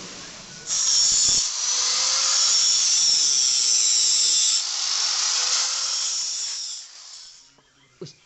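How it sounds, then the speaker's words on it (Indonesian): Angle grinder working on a welded motorcycle kick-starter lever, a steady high-pitched whine that holds loud for about six seconds with a brief dip mid-way, then winds down near the end. "untuk tahap berikutnya kita harus menggerinda ini terlebih dahulu"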